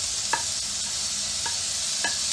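Onion frying in a pan with softened garlic and ginger for a squid roast makes a steady, close sizzle, with a few brief scrapes from stirring.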